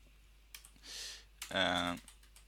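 Typing on a computer keyboard while entering a username and password: two short bursts of brisk keystrokes, close and moderately loud in a quiet room, with no talk.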